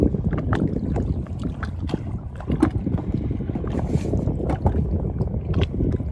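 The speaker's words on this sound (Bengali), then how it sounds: "হাওয়া আছে।" Wind gusts across an open river in the Sundarbans, heard from a small boat as a constant rushing rumble. Scattered knocks and splashes come through the wind noise.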